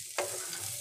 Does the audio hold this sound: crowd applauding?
no